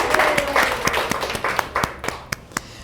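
An audience at a book show celebration applauds, producing a steady patter of many clapping hands with a few louder individual claps standing out as the sound thins toward the end.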